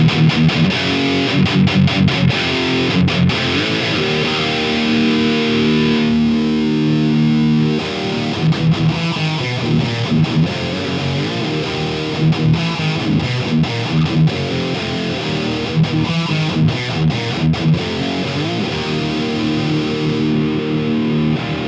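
Distorted electric guitar riffing through a Mesa Mark IIC++ reissue amp, loud and continuous with chugging palm-muted bursts, its high end being adjusted so the tone darkens.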